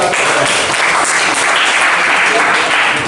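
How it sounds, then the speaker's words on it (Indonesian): A classroom of students applauds a student group after its presentation, a loud, continuous burst of clapping filling the whole moment, with voices mixed into it. "Beri tepuk tangan buat kelompok."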